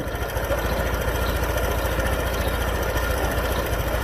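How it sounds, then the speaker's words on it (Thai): A Honda PCX 150 scooter with a rough-running, hard-starting fault sits at a steady idle, its low engine note pulsing evenly and close throughout. "มาดูรอบเครื่องนะ"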